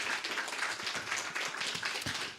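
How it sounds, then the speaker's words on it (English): A church congregation at a Sunday service applauds, a short burst of dense, even clapping from many hands at moderate loudness. "Let's give them a round of applause too."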